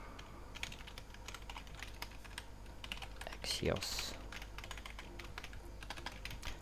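Rapid clicking of a computer keyboard close up while coding, steady bursts of keystrokes with a brief spoken word partway through.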